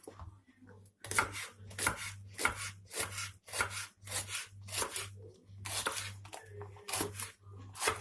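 Steady, rhythmic chopping of onions and peppers on a cutting board, about a dozen crisp close strokes at an even pace, with a faint low hum underneath.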